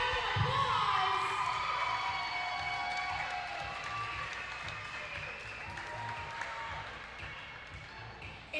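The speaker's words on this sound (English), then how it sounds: "let's give our MVPs a big round of applause." A crowd at an outdoor orchard softball game applauds the MVPs, with sustained clapping and some cheering that stays loud across the whole stretch, a busy, close, dense wash of hands and voices.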